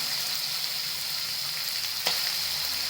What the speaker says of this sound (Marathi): तेल चांगलं तापू द्यायचंय त्याच्यामध्ये तोंडली टाकून द्यायचे